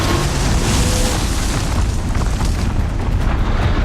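Dense, loud explosive booms fill the whole stretch of Horizon Zero Dawn gameplay, a continuous roar of blasts and bursts with no talk over it.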